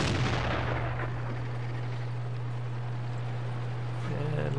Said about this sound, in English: Ooh, bounce a shot from Ferdinand